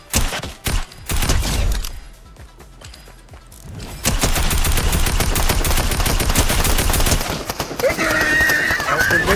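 Rapid automatic gunfire from guards being shot in the Fortnite video game, a dense continuous burst of shots that follows sparser cracks and some galloping and whinnying sounds.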